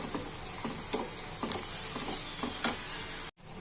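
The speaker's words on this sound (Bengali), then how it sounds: "আমি দিয়েছি তেজপাতা তারপরে রসুন আর দিয়েছি পেঁয়াজ আর পাঁচফোড়ন এগুলো একটু লাল লাল করে ভেজে নিয়ে" Bay leaf, garlic, onion and five-spice (panch phoron) frying in hot oil for a dal tempering, a steady close sizzle with soft stirring clicks throughout, cut off abruptly near the end.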